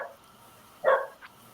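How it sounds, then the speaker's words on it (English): A dog gives a single short bark partway through, fairly close against a quiet room, with a faint yip just after. "Nice doggy."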